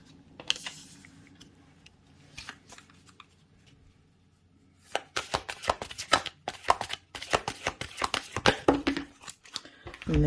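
Oracle cards being shuffled by hand during a tarot-style reading, a quiet start giving way to a dense run of rapid papery riffles and slaps close by, with faint background sound.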